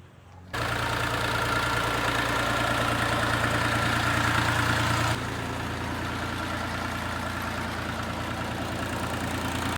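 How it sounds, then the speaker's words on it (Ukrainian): A water-cooled three-cylinder diesel engine on a Scout XT-244 compact tractor idles close by with a low, throbbing chug, continuous throughout; the tone shifts slightly partway through but keeps running evenly. "Трьохциліндровий двигун. Водяне охолодження, все як має бути."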